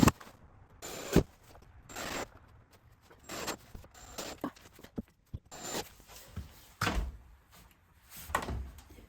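A household door slides along its track during a home floor repair, with several separate bursts of scraping and rolling, each ending in a soft knock, and quiet pauses in between.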